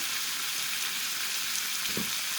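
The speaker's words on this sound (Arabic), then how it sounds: "ياخدوا تشويحة مع الفلفل مع البصل" Vegetables with peppers and onions sauté in a hot pan, giving a steady close sizzle throughout with a soft scrape or stir near the end.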